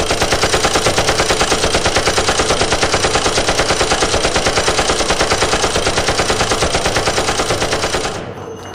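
Toy guns firing a long, rapid, even burst of machine-gun shots, loud and steady for about eight seconds before cutting off abruptly.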